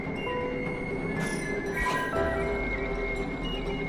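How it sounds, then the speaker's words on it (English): Steady rumble of a train ride in the video game Paranormasight, a continuous loud rolling drone with faint high squeals and light clinks running through the whole stretch. "So you're on the train now, huh?"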